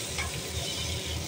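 Capsicum frying in oil in a kadai, a steady soft sizzle with light stirring scrapes, close and continuous throughout.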